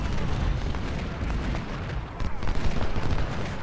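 Artillery guns firing in a Civil War battle game, a continuous rumbling barrage of booms and blasts, loud and dense, with a voice talking over it.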